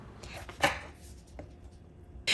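A knife slicing halved eggplant into half-centimetre-thick pieces on a board, a few sparse, close cutting thuds with a quiet pause between them.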